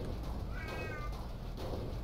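A cat in the PSX horror game Silent Hill lets out a single clear meow midway through, moderately loud over a constant low hum of in-game ambience, no voices.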